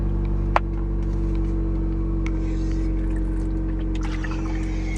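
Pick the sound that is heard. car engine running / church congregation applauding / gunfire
car engine running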